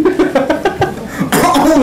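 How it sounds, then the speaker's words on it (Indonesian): A woman coughs several times in quick, rhythmic bursts, close and loud, on the set of an Indonesian chat show. "Batuk, Mbak."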